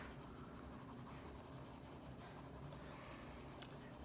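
Colored pencil shading on paper around a sphere, a steady close scratchy rubbing that continues without a break and with no voices.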